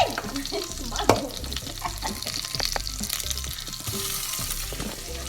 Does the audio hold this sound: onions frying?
yes